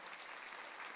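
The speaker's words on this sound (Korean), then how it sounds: "여러분 큰 박수로" Applause from a church congregation at a deacon ordination ceremony, dense continuous clapping of many hands at moderate distance, filling the whole brief moment.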